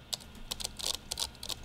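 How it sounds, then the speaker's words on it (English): Computer keyboard typing from the chat game Emily Is Away: a quick run of close, crisp key clicks in uneven bursts, with no voice over them. "I'm typing a lot and it's really short."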